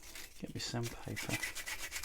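Sandpaper rubbing over the rough edges of lever lock picking wires in a few short, close scratchy strokes.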